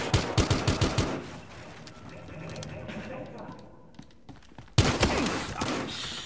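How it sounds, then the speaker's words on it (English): Rapid, loud gunfire bursts from the video game Battlefield Hardline open the scene, then a quieter stretch of game ambience, before another heavy burst of shooting erupts near the end. "Shots fired"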